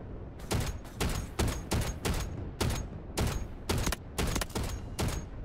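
Attack helicopter cannon in the Delta Force game firing bullets in a steady series of short, loud, close bursts, roughly two per second.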